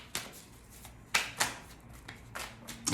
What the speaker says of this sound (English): It's a long shuffle.